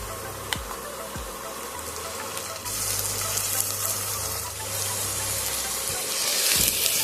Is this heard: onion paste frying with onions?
yes